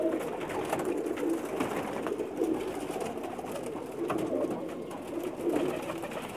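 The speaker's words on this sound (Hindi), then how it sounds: "बहुत ही नायाब किस्म के कबूतर हैं जिनके" Pigeons coo softly in repeated low, throaty phrases close by, overlapping in an unhurried rhythm against faint background noise.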